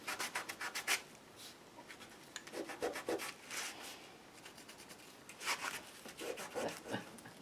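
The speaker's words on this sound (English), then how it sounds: "So it just likes to sharpen one side of that Stabilo." A hand sharpener grinding a Stabilo pencil, a faint, close scratchy rubbing that rises and falls in repeated rhythmic bursts with brief pauses.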